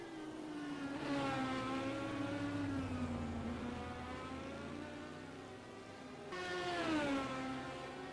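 Yellow Corvette race cars lap Road America in a virtual endurance racing game, their engines a steady, tonal whine that sags in pitch, then climbs sharply again, with no one talking.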